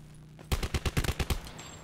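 Rapid burst of about seven sharp sniper shots in Call of Duty Black Ops 4 Blackout, rattling off in quick succession after a quiet moment, loud and punchy with no talk over them.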